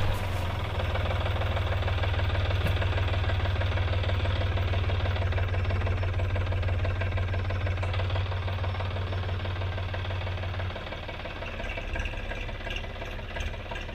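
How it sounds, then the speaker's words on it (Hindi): A John Deere 5204 tractor engine on a farm, running steadily with a loud, knocking diesel idle. The throb drops slightly toward the end, with no talk. "अभी मैं ट्रैक्टर की ड्राइविंग सीट पर बैठ गया हूँ और ट्रैक्टर को चालू करने वाला हूँ"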